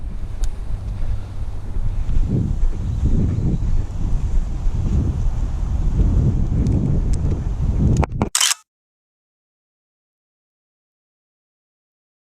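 Strong wind buffets the microphone in a steady, rumbling roar with gusty surges, ending abruptly with a click and then silence.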